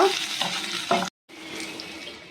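Chopped shallots and green chillies sautéing in a hot pan give a steady close sizzle with soft stirring scrapes, cut off by a brief silence before the frying hiss resumes.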